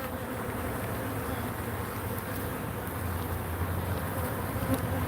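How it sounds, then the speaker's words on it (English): Honeybees buzz around an open beehive in a steady, dense hum that stays up close and constant throughout, with no speech over it. "This hive looks pretty good, y'all."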